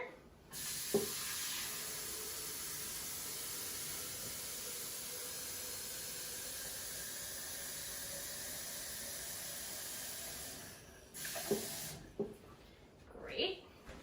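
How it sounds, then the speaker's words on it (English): Water pours steadily into a Ninja Foodi blender pitcher as a loud, even hiss lasting about ten seconds, followed by a few light knocks and clunks. "what I'm going to do is just add some water to the pitcher"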